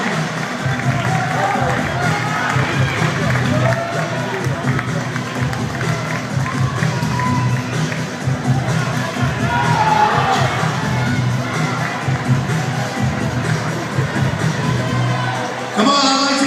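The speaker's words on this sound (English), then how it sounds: "I'd like to hear some crowd support" A crowd cheers and shouts continuously at a CrossFit European Regionals workout, a dense roar of voices and claps filling the whole stretch, loud and close.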